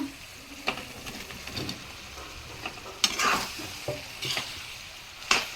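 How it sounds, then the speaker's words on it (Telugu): Meal maker soya chunks are stirred and fried in a pan, with a soft steady sizzle under intermittent scraping and clacking of a spatula against the pan, fairly close and moderately quiet. "మీల్ మేకర్ వేసుకొని మంచిగా మిక్స్ చేసుకున్నాము అన్నీ కలిసేటట్టు."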